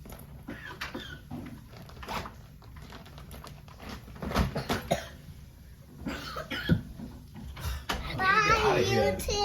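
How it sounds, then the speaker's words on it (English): A young boy coughs repeatedly at home while a vacuum-cleaning chore goes on; short, scattered coughs and throat clearing come close, mixed with a child's chatter and household noise. "All that coughing and stuff."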